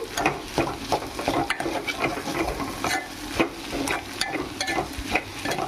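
Okra frying in a pan: a continuous crackling sizzle is broken by repeated scraping stirs of a spatula, close and fairly busy, with no voices.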